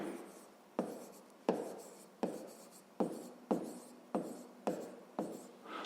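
Pen strokes writing out a maths equation for a fifth-grade exercise, a run of eight or nine sharp scratching taps at a steady pace, close and alone with no talk.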